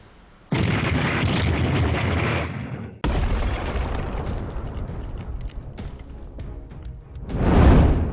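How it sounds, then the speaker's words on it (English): HIMARS rocket strikes hit a Russian troop convoy heading toward Kursk, heard as a sustained roaring blast rumble that cuts off abruptly, then a second long crackling roar and a final swelling boom. "Ukraine's HIMARS rockets hit them halfway."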